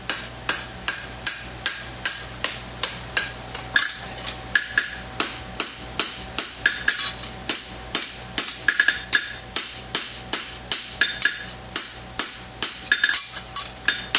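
Steady, rhythmic hammer blows pounding hot steel while forging a roadster wedge, a fast run of sharp ringing strikes repeating evenly with a constant hum underneath.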